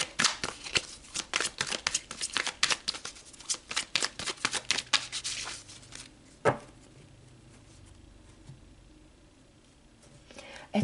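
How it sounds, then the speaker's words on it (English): Tarot cards shuffled by hand for a reading: a rapid run of close, crisp riffling and flicking for about six seconds, then a single sharp tap of the deck followed by quiet room tone. "let's pull some cards and see what else Spirit wants to add."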